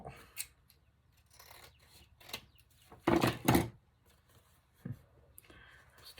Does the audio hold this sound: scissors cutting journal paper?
yes